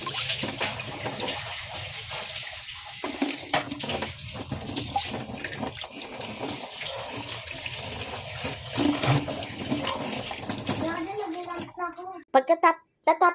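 A bathroom sink tap runs in a steady rushing stream while people talk nearby, including a child. Near the end the flow is disturbed as hands splash in the water.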